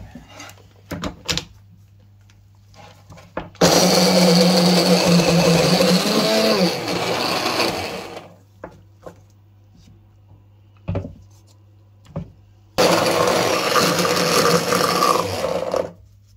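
An electric grinder whirs loudly as it spins and chops garlic, running in two long bursts of several seconds each, separated by quiet stretches with small clicks and knocks.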